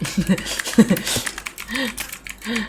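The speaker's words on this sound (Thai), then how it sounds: "พี่เป็นลำคาญเสียงคีย์บอร์ดแล้วครับ" Computer keyboard typing during a PUBG Lite game session: quick, uneven clusters of close clicky keystrokes, with a voice talking intermittently underneath.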